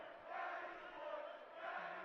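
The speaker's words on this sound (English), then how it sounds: "the crowd is chanting" A basketball crowd in a high school gym chants in unison, a distant roaring swell of many voices rising and falling in two waves, faint and reverberant.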